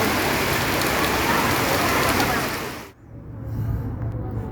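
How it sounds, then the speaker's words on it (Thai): Steady, dense hiss of rain falling on surfaces fills the air, then abruptly drops to a quieter patter near the end. "ตอนนี้ฝนก็หยุดตกนะฮะแต่ว่าไม่หยุดแหละก็มีโปรยปลายบ้างนะฮะ"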